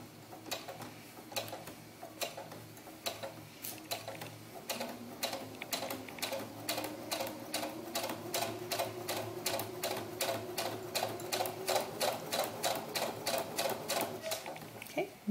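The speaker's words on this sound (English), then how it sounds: "I'm going to sew just to the left of this line of stitching" A sewing machine stitches doll bodice fabric, its quiet rapid ticking building into a steady run of even needle strokes close by.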